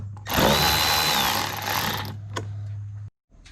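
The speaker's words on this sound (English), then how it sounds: "we're going to loosen these two number 8 hose clamps." A power tool whirs steadily for about three seconds, loosening two number 8 hose clamps on a car's intake, then cuts off abruptly, followed by a faint clatter nearby.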